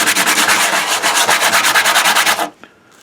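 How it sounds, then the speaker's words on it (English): Close, steady rasping of a sanding sponge swiped rhythmically back and forth over small flat-ended replica parts of a Blade Runner Voight-Kampff machine, roughly twenty quick strokes that stop abruptly near the end. "just grab a sanding sponge, clean it up"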